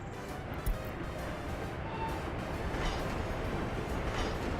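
A tram rolls through a city in a Korea-themed city-building game, a steady broadband rumble with faint rail clatter holding at an even level throughout.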